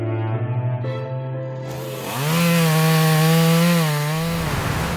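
A chainsaw works through trees on a forested mountainside, idling with a steady drone before revving hard into a loud, sustained, rising cut with coarse, noisy texture, close by and with no talking.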